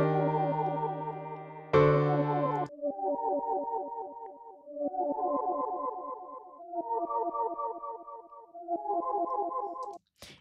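Staggered MIDI notes in Logic Pro with a flam effect, each chord smeared into rapid cascading plucked tones. Short bursts repeat across the clip, clean and fairly quiet, with no talking.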